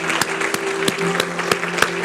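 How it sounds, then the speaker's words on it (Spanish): A church congregation applauds the Lord during a Spanish-language service, a loud regular rhythm of clapping in roughly even beats with a sustained tone beneath. "¿Por qué no le damos un aplauso fuerte, fuerte, fuerte, fuerte, fuerte, fuerte al Señor?"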